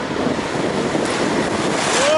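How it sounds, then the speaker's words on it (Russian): Beach surf in Brazil rolls in as a continuous broad wash of waves, loud and close, with wind buffeting the microphone throughout. "Такой пляж! Такой очередной пляж!"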